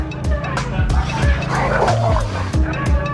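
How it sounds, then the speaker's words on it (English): Pit bulls bark and yelp in rapid, overlapping bursts during a brutal dog fight, loud and close, with short whimpers between the barks. "The matches are brutal, with pit bulls facing off against one another."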